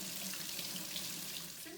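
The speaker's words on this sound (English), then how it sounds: "Wash our hands for 20 seconds." Steady rush of water from a kitchen tap during handwashing before cooking, a continuous close hiss and splash with no talking.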